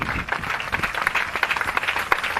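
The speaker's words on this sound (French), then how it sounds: "Acclamez pour le Seigneur." A church congregation applauding at an evangelism service, dense continuous clapping from many hands, fairly close and steady throughout.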